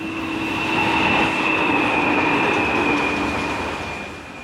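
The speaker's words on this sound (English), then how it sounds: "here comes the train" A train near Yinghanling rumbles past close by in intense heat with a steady roar and a high metallic squeal from the wheels, swelling and then easing off.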